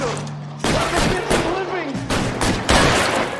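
Gunfire in the video game L.A. Noire, loud bursts of rapid shots and booming impacts in clustered volleys, with voices speaking over the exchange.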